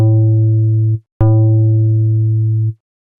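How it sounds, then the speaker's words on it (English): Two sustained synth tones from an envelope fed into a comb filter with fairly high decay, with a bright metallic, buzzy resonance, each starting sharply and holding steady before cutting off, separated by a brief gap. "That's from an envelope going into a comb filter with a reasonably high decay."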